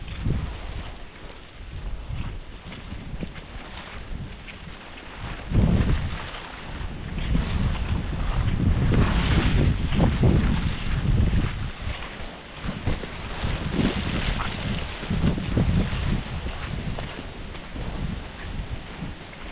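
Steady wind gusting and buffeting the microphone outdoors, with broad rumbling noise that swells louder in the middle and stays constant throughout.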